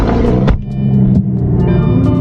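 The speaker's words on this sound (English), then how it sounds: "Start with a good old cold start." A Lamborghini roars to life on a cold start, a loud raspy engine rumble that surges, dips briefly and settles into a high, steady idle, close to the mic with no voices.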